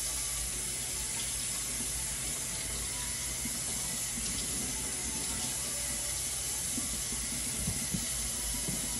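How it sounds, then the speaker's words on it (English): Vegetables for seasoning rinsed under a running faucet, a steady broadband hiss of water at a sink that stays even and close throughout, with no talking. "So of course, you rinse off your stuff."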